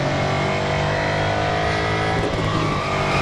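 Race car engine in Real Racing 3 skidding and drifting, a steady loud roar of revving engine with continuous tire noise across the whole stretch, no talk.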